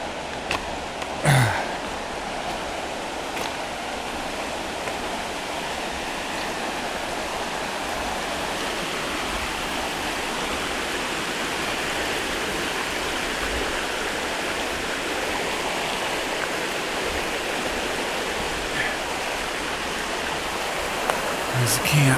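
A river flows beside a walking path at a campsite, a steady broad rush of moving water heard close and continuous, with a few brief knocks and rustles on top.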